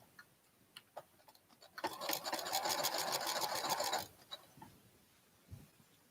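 A sewing machine stitches a side seam on an item for an online shop order in one steady burst of about two seconds, with faint clicks before and after.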